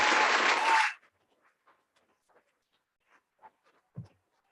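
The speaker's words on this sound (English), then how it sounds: "let's go ahead and give them a round of applause" A short burst of applause breaks out and cuts off after about a second, followed by near silence broken by a few faint taps and small noises.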